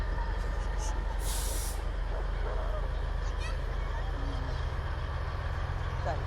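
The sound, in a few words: parade truck, air brake hiss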